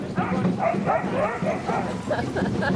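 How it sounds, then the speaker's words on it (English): Team of female sled dogs yipping and bow-wowing in rapid bursts while hauling a sled uphill, close and fairly loud, with a man calling encouragement over the barks. "Oh, now they got to work hard."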